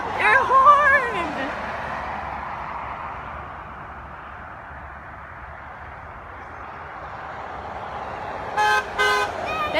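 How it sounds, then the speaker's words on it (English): A vehicle horn, probably from a truck, sounds briefly near the end as a short pair of loud blasts after a long stretch of road ambience, with a person speaking excitedly at the start. "Please, honk your horn!"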